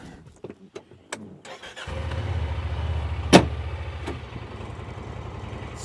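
A 2024 Honda Pioneer 1000-5P Trail side-by-side UTV: a few clicks and clunks, then the engine cranks and catches, settling into a low, even idle close by, with one sharp knock partway through and no talk.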